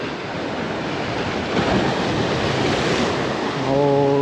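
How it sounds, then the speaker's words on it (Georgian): Heavy ocean waves break against a rocky shore, a continuous loud roar of surf with gusting wind buffeting the microphone, the crash swelling in the middle and again at the end. "ძალიან ძლიერი ტალღები, ასეთ ტალღებში ჯერ არ მithევზავია"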